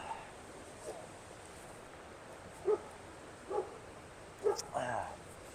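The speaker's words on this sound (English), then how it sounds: "Somebody got a dog over there." A dog barks a few times in the distance near train tracks by a park, short separate yaps rising over steady wind, with a pause between each.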